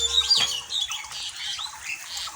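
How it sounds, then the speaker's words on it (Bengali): Many birds chirp and squawk around a village kitchen in rural Bangladesh, a dense overlapping chorus of sharp high calls with one brief louder squawk near the start, steady and moderately close with no talking. "অনেক পাখি কিচিরমিচির করতেছে,"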